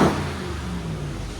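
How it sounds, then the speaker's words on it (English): A 2022 Ram TRX's 6.2L HEMI V8 with factory exhaust growls at a steady low idle after a brief rev at the start, its deep exhaust rumble close and loud. "Still sounds mean. Even with factory exhaust."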